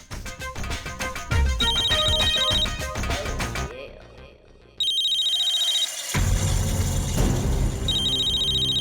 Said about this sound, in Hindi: मेरे इस नंबर पर फोन कैसे आ सकता है?